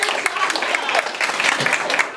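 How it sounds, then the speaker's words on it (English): A group of trainees at a tornado-preparedness presentation gives itself a round of applause: steady, close clapping from a small crowd lasting the whole brief moment, with voices mixed in. "Okay, everybody give yourselves a round of applause."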